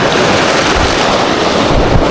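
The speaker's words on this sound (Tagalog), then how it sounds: "ang lakas na ng hangin mga master. Naglalakihan na yung alon." Loud, roaring wind buffets the microphone over the churn of heavy waves at sea during a fishing trip, a constant dense rush with no voices.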